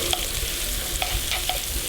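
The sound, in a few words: onions frying in a pan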